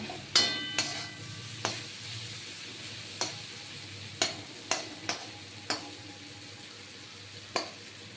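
Potatoes and vegetables frying in a pan for a breakfast oats dish, with about nine sharp, scattered spatula knocks and scrapes over a faint background sizzle, close by and without talk.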